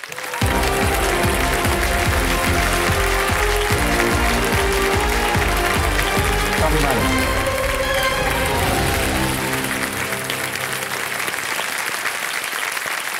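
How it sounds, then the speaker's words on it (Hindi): Studio audience applause on the KBC quiz show set welcoming a rollover contestant, dense sustained clapping with a rhythmic music bed underneath, steady and loud across the clip before easing slightly at the end. "जोरदार तालियों से मैं चाहता हूं कि उनका स्वागत किया जाए"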